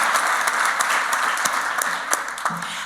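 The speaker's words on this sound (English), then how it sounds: "please give a big round of applause for these people" A room of attendees at a meeting gives a round of applause for the nominees, a steady, moderately loud patter of many hands with scattered sharper claps.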